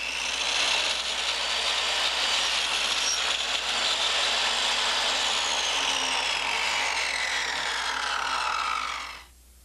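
A miter saw whines steadily through a cut in cove molding for several seconds, loud and close, then cuts off abruptly at the end.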